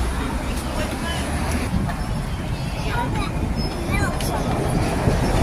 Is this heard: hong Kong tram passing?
yes